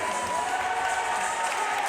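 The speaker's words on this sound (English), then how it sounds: "the crowd is just going nutso" A packed basketball crowd roars and applauds in a continuous wall of cheering after a SCIAC conference final win, loud and sustained throughout.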